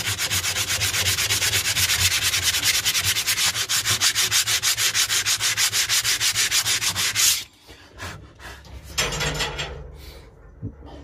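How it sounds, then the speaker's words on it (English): Steady, loud rhythmic rasping of coarse 60-grit sandpaper over car body filler for several seconds, then a pause and a few shorter strokes. "Sanding wise, this is 80 grit. No, it's not, sorry, 60 grit."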